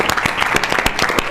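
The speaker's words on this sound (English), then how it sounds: "How about a huge round of applause for Cody?" An audience at a fireside chat breaks into a round of applause, dense overlapping claps from a crowd, steady and lively throughout.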